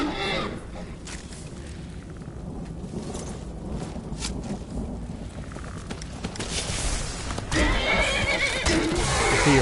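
Horses in the Skyrim video game whinny loudly and repeatedly amid clip-clopping hooves and a rushing, windy game backdrop, with the neighing swelling louder toward the end.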